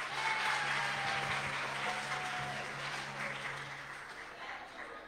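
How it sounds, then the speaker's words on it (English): Applause from the congregation at a church vacation Bible school, a sustained wash of many hands clapping that stays even and slowly softens toward the end. "Let's give them another hand clap"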